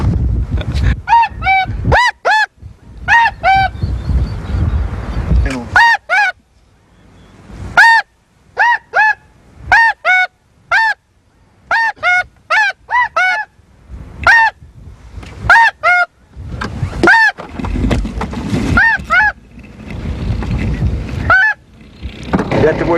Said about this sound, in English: That's a bunch of snows and blues, and they'll sure listen to a holler